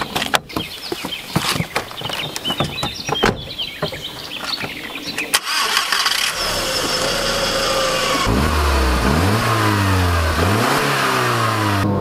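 Audi A3 1.8 turbo petrol from the 1990s: door thunks and clatter, then the engine cranks and catches, followed by rising and falling revs through several gear changes as the car pulls away, loud and close with no talking.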